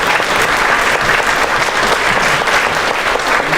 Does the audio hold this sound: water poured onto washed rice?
no